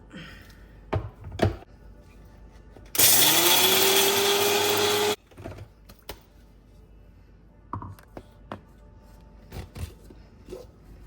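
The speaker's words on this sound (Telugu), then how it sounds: "ఇప్పుడు ఇది మిక్సీకి వేసేసుకుందాం" A mixer grinder whirs loudly for about two seconds while grinding roasted gram with cumin, a dense motor roar with a rising pitch. Scattered knocks and clatter from handling the jar come before and after it.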